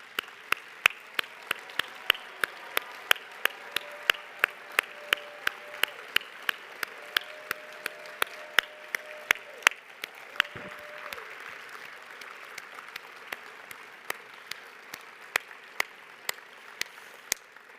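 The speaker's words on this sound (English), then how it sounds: "Would you stand up and let's applaud Cave Canem?" A keynote audience stands and applauds at length, a soft crowd wash punctuated by sharp, evenly spaced claps that keep a steady rhythm for about eighteen seconds.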